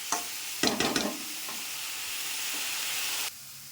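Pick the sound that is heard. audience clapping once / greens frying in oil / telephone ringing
greens frying in oil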